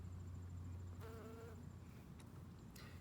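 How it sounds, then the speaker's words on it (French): A native bee foraging on Greek oregano in a garden buzzes with a low steady hum, faint and close, while a brief higher whine and a couple of soft clicks cut through midway; no voices. "c'est une belle abeille indigène"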